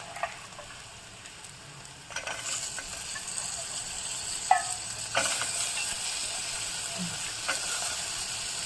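Field beans (pavta) sautéing in oil in a pan, a continuous close sizzle broken by a few sharp clinks and scrapes of a utensil, getting slightly louder partway through, no talking.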